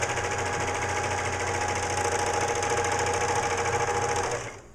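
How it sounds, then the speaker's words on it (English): A serger overlocks the front edge of a boy's hat with a loud, close, rapid mechanical whir that holds steady for several seconds before winding down and stopping at the end. "I'm going to serge the front edge of the hat."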